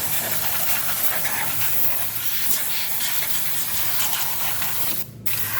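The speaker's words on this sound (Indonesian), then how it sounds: "ini akan kita bersihkan menggunakan air kompresor" Continuous loud hiss of high-pressure compressed air blasting onto a motorcycle starter's magnet housing during cleaning, steady and close for several seconds, cutting off briefly near the end.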